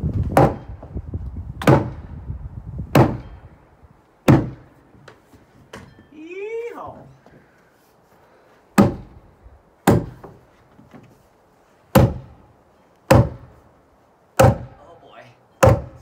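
Heavy wooden thuds strike a post being knocked out inside a log home under remodel, about a dozen sharp, loud blows spaced roughly a second apart with short gaps between, plus a brief creak in the middle.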